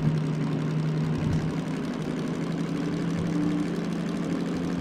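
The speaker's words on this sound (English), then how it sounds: "Listen to the engine." A DM3 locomotive engine in the Derail Valley simulator runs steadily at a constant mid-low drone, loud and continuous throughout with no voices.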